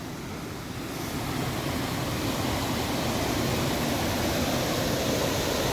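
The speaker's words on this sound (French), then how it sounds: "Regardez cette cascade." Steady broadband rush of a waterfall along an outdoor hiking route, a continuous loud roar of falling water with no talk, rising slightly after the first second and holding constant.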